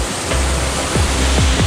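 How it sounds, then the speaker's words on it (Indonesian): Kudu-Kudu waterfall on Bawean Island roars steadily in a dense, unbroken rush of falling water, close and loud throughout, with no voices. "akhirnya kita sekarang sudah sampai di air terjun Kudu-Kudu ini"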